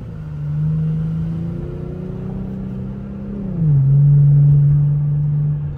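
An Infiniti G37 with a manual clutch is driven, its engine humming steadily and near, the pitch dropping at a gear change before settling into a louder, even drone.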